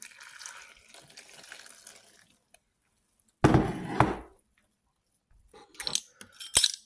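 A cup of boiling water is poured into chocolate cake batter in a brief, close splashing pour lasting under a second, followed after a pause by a few light clinks and taps.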